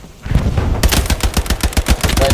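Gunfire rattles in the WWII shooter Hell Let Loose, with rapid, close bursts of automatic weapon fire in a steady, loud rhythm following a brief quieter lead-in.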